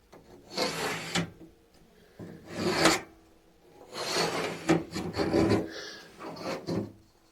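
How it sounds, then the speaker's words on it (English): Stud finder sliding across drywall, several slow rasping rubs in a row, each a second or so long, close and fairly loud with brief pauses between passes. "a stud finder here because I want the exact center of these studs"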